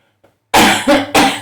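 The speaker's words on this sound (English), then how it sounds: "okay, I just coughed and choked" A person coughs and chokes in a dry room, with a faint small sound first followed by three loud, harsh bursts close to the mic.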